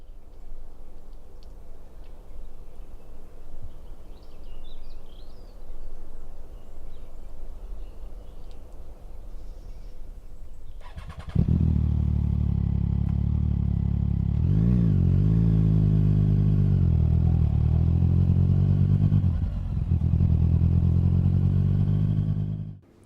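A Triumph Daytona motorcycle set into a wall in an art installation: faint ambience first, then the engine abruptly starts and holds a loud, steady idling drone with a couple of brief revs before cutting off at the end.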